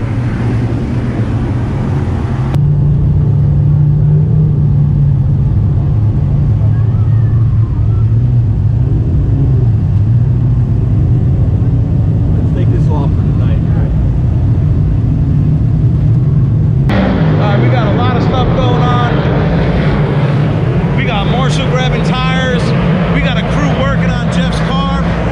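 Inside a Northeast dirt modified sportsman race car at a dirt track, the engine drones loud and steady. Its pitch shifts partway through, and a voice speaks over the noise near the end.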